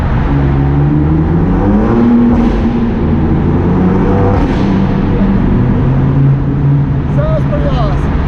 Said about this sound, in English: I love the sound of this AFE exhaust.